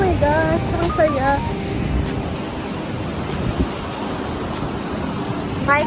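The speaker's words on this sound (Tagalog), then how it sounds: "Wow, ang lakas ng waves!" Strong ocean waves roll and wash onto a white-sand beach in Vietnam, a loud steady roar mixed with wind buffeting the microphone, while a voice exclaims over it.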